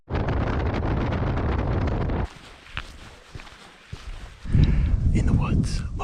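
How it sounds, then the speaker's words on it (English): Wind gusts roar across the microphone outdoors in the woods on public land, loud buffeting that drops off midway, then surges back near the end with faint rustles in between. "The wind is blowing perfect coming out of the southwest"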